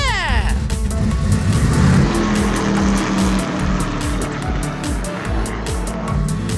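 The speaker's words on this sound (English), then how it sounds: "Now it's time to get this race car on the track!" A small open-cockpit race car with no doors runs loud and steady around a track, its engine drone continuous with rising and falling pitch sweeps, and a voice calls out excitedly over it.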